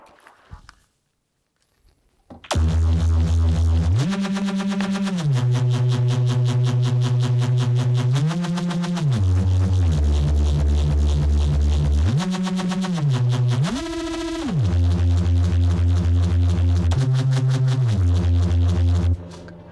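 A brutal, buzzing Reese bass from the Serum synth starts after a short silence and holds long, detuned notes that shift pitch in steps, loud and sustained with no drums or voices.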